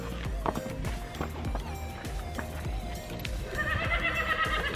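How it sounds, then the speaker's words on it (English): A thoroughbred mare whinnies loudly several times while her hooves clip-clop and shuffle nearby, the calls rising over a steady outdoor background. "Who's that pretty mare?"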